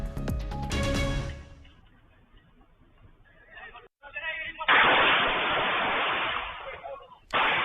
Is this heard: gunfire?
yes